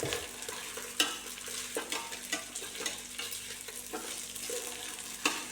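Rice being stirred in ghee in a pan: a steady close scraping and shuffling of grains with a soft sizzle underneath and occasional sharper knocks of the spoon against the pan.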